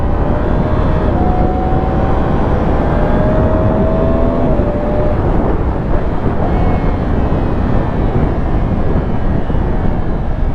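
A motorcycle rolls slowly along a road in the Vosges to warm its tyres, with a steady low engine drone under heavy rushing wind noise.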